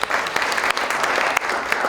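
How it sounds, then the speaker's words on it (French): An audience at an awards ceremony in Quebec applauds with dense, steady clapping that carries sharper individual claps throughout. "Et on pourrait les applaudir, s'il vous plaît."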